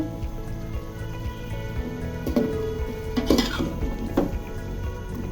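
Flat beans and cauliflower sauté in a pan with a steady crackling hiss, broken by a few light utensil clinks and scrapes close by, with no voices.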